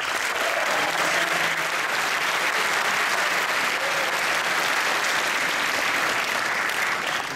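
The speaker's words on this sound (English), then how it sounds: "Let's give them a round of applause." A film premiere audience at Toronto's Midnight Madness applauds with steady, dense clapping that stays loud and even for the whole stretch, with no voices rising above it.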